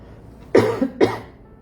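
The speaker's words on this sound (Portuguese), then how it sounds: "Ajuda com essa tosse minha." Two quick, loud coughs close to the microphone, one right after the other, then quiet.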